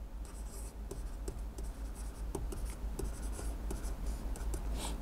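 Writing during a math lecture on combinations: a steady scratch of strokes and taps as figures go down on a surface, heard up close over a faint room hum with no talk.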